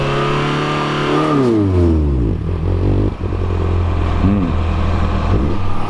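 A racing car engine on Yokohama tyres revving hard for a second-gear start test, loud and close, rising in pitch, dropping, then climbing again in repeated surges.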